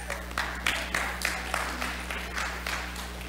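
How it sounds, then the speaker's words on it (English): Small audience gathered for a Bible study on the Gospel of Luke claps in a steady, sparse rhythm for several seconds, with a low constant hum underneath. "Let's clap for Marv"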